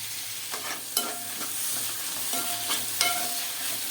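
Fenugreek leaves and tomatoes frying in a pan after onions, a steady close sizzle with a few spoon clinks and stirring scrapes at intervals.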